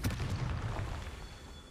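Confringo blast spell cast in Hogwarts Legacy: a single booming burst right at the start that rumbles low and trails off over the next second and a half, with no voices.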